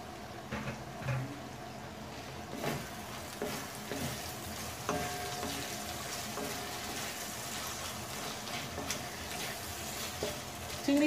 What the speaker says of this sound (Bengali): রিং করা পেঁয়াজগুলো আমি দিয়ে দিচ্ছি